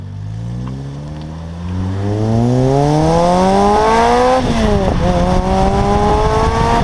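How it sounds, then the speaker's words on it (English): A car is driven and revved up to temperature, its engine climbing steadily in pitch through the gears, loud and close, with a brief dip and shift before pulling strongly again. "Just go out, have a good time driving the car, make sure you get it all up to temperature"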